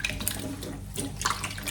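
Kitchen tap water runs steadily while food is rinsed and washed in a sink, a close, continuous splashing wash with brief louder surges, no voices.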